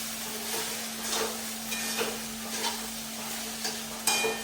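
Cooked rice seasoned with salt is stir-fried in a hot pan, its gentle sizzle broken by regular scraping stir strokes about every half second, close up, over a faint constant hum and with no one talking.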